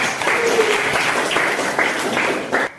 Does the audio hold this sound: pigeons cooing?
no